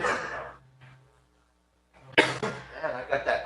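A single sharp cough bursts out at a council meeting after a brief quiet pause, followed by talking; more speech is heard just before the pause.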